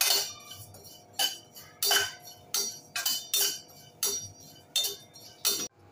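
A metal utensil clinks and scrapes against a pan while cumin seeds are dry roasted, about a dozen sharp, close clinks at an uneven stirring rhythm over a quiet background.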